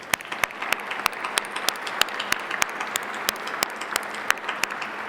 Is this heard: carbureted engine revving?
no